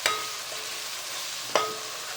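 Pav bhaji masala being stirred into a pan, two sharp scraping strokes against the metal over a faint steady frying hiss, close by and without speech.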